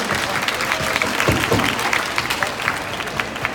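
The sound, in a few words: audience applause for performers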